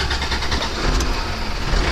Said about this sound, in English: A little bit of accelerator and it starts perfectly.